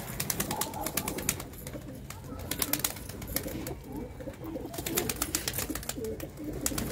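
A flock of pigeons kept for sale in Ludhiana keeps up a steady murmur of overlapping coos, punctuated by frequent sharp clicks and taps.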